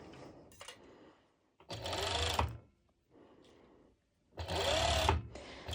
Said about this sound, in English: I'm serging all the way through